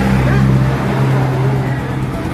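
A motorcycle engine with an electrical fault that killed the horn, lights and starter, and had been hard to start, fires up and runs loud and close with a steady, even idle drone, a voice faintly underneath.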